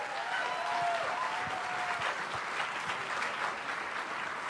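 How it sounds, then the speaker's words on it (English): Audience in India gives a big welcoming round of applause as Secretary of State Hillary Clinton takes the stage, a steady, dense clapping from a large crowd that carries evenly throughout. "Let's have a huge round of applause."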